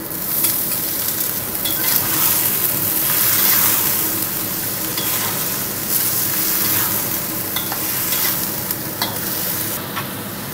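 Tempeh cooked in a pan with plenty of water for a sweet and spicy wet orek tempe, bubbling and sizzling loudly and continuously up close while being stirred, with no voices.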